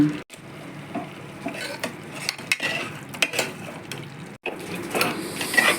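Chicken goes into a pan of fried masala of poppy seeds, ginger, garlic and onion and is stirred, giving close scraping and clattering strokes over a low sizzle.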